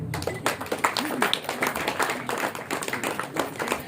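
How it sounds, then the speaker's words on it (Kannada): Audience at a Women's Day event for a women and children's welfare organization claps during an honoring ceremony. The clapping is moderately loud and slightly uneven, with individual hand claps audible in the mix and some chatter underneath. "ಜೋರಾಗಿ ಚಪ್ಪಾಳೆ ಅಂತ"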